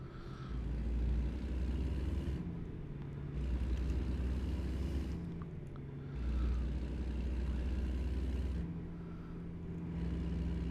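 A truck engine drones steadily while driving in American Truck Simulator, its low rumble rising and dropping through repeated gear changes at a moderate, even level.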